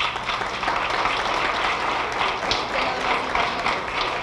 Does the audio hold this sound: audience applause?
yes